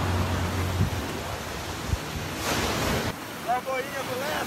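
Steady ocean surf and gusting wind buffeting the microphone on a beach at Lagoinha do Leste in the south of Florianópolis island, Santa Catarina, a continuous broad roar with a brief surge partway through.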